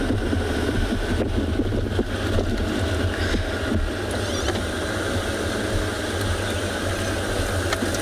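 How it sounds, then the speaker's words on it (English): A safari game-drive vehicle's engine idles outdoors on a South African morning bush drive, a loud steady low rumble with wind buffeting the microphone and no talk. "Our engines are very, very loud."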